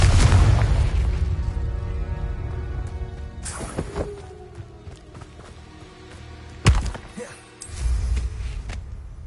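A Confringo explosive spell blast in the video game Hogwarts Legacy, heard as a loud booming burst with a deep low rumble. Sharper impacts and crackles follow several seconds later.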